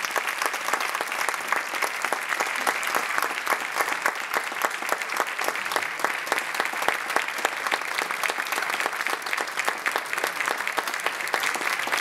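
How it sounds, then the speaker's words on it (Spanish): An audience claps after a band concert piece by Agrupación Musical La Compañía in Caravaca de la Cruz, dense sustained applause from a large crowd, loud and even throughout with no voices over it. "Un aplauso."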